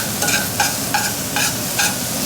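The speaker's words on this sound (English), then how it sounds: "So now we got our garlic sauteing away." Garlic sautéing in a pan sizzles steadily, broken by about five regular scraping strokes of a spoon or spatula. Close and fairly loud, with no speech.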